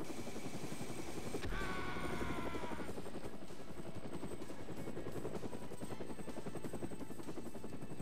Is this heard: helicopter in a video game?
yes